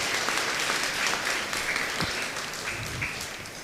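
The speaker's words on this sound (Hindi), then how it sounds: "तो एक बार उनके लिए भी जोरदार ताली बजाइएगा" Audience applause breaks out at a gathering in honour of people whose names were left out, a steady broadband clatter of many hands at moderate loudness throughout, with faint voices beneath.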